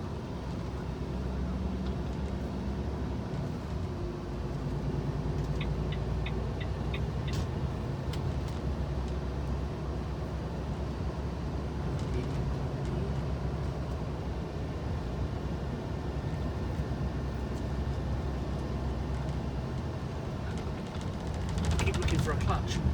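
Steady engine and road drone inside the cab of a new Volvo recovery truck on the move, broad and constant throughout, with people talking over it and a brief brighter rattle near the end.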